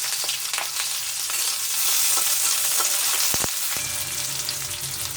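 Onions drop into hot oil and fry with a loud, dense, continuous sizzle, broken by a few sharp clatters partway through; no voices over it.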